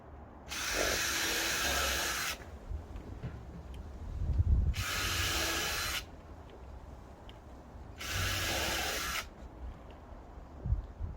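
A power drill drives screws into a wooden chicken run frame in a small back garden, three separate whirring bursts of about two seconds each with quiet gaps and faint handling noises between.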